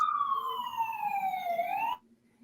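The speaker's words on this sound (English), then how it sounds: "Get rid of the siren there." An emergency vehicle siren wails loudly for about two seconds, sweeping steadily downward in pitch before bending back up, then cutting off abruptly into near silence.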